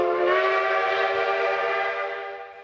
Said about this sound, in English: It's a turn-of-the-century, steam-powered locomotive that still runs daily.